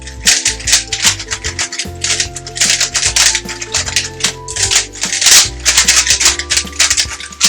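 A Rubik's cube is twisted rapidly in a home setting, producing dense bursts of plastic clicking and rattling in uneven flurries, close and fairly loud, with children and an adult talking faintly over it.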